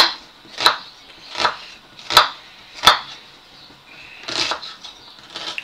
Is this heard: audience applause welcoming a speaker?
no